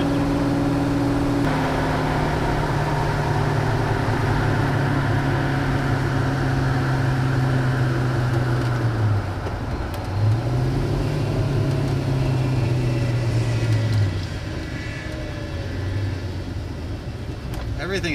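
A 1965 Pontiac GTO with Tri-Power carburetion drives along, its engine droning steadily inside the cabin and shifting pitch as it changes speed, while people talk.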